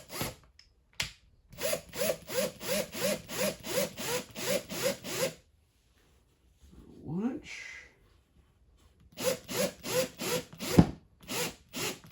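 Screws being driven into wood while a final shelf is added, with a rapid run of repeated whirring drill bursts, a pause with brief rustling, then another burst of driving close by.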